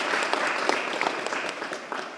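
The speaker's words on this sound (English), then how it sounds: "Yeah, we clap for that." Dense audience applause after a district attorney's report of falling shootings at a borough public event, a steady wash of many hands clapping with no talk over it.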